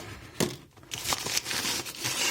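A parcel holding videocassettes is unwrapped, giving close, quiet crinkling and rustling of packaging in short uneven bursts with no talk.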